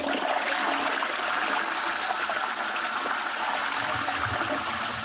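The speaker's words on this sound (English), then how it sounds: "It's a remarkably long flush." A toilet flush plays from a voice note as a long, steady rush of gushing water that holds at an even level for several seconds without any voices.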